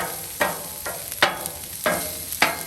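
Onions and green peppers sizzle on a Blackstone griddle under a steady hiss, with about five scraping spatula strokes at a regular, unhurried pace, close and clear with no voices.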